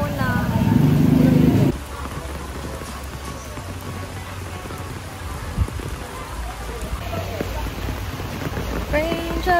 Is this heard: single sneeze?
no